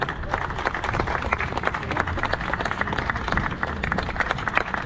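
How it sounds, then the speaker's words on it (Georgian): Crowd applause at a motorcycle race award ceremony, honoring a 1000cc class podium finisher; steady dense clapping with scattered cheers fills the whole stretch at moderate loudness. "აპლოდისმენტები"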